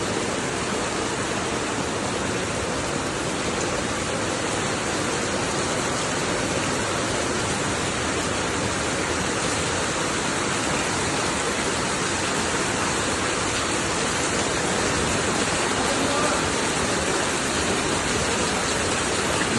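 Heavy monsoon rain in Mangaluru with floodwater on roads and around houses, heard as a dense, unbroken roar of downpour and rushing water that stays loud and steady throughout, with no voices.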